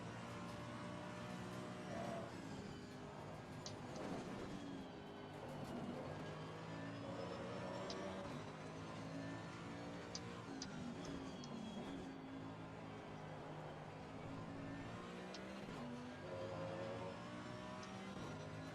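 A Ferrari race car engine in a racing video game hums steadily for the whole stretch, its pitch rising and falling with gear changes, quiet and continuous with no talking.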